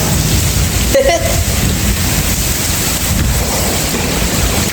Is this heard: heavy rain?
yes